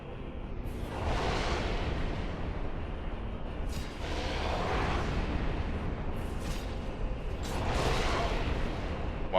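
Repeated deep rumbling blasts from the Four Kings boss fight in Dark Souls 1, three slow swelling booms with whooshing tails that rise and fall over a steady dense roar.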